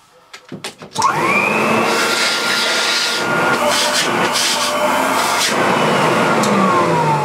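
A 600 watt vacuum cleaner with a HEPA filter bag starts after a few quiet clunks and settles into a loud, steady motor whine with a high tonal hum that runs unbroken to the end.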